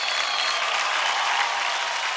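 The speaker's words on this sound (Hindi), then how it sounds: "तो जोरदार तालियां हो जाए टेरेंस की टोली से डांसिंग स्टार्स वरुण और पियाली के लिए" A large studio audience at a dance competition applauds dancers Varun and Piyali, a dense, steady wash of clapping, loud and continuous throughout.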